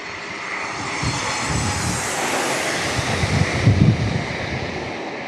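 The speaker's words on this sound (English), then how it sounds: "Here comes Southwest Airlines landing on runway 27." A Southwest Airlines jet landing on runway 27 at San Diego International Airport, its engine roar loud and steady throughout with wind buffeting the microphone and a slight swell near the end.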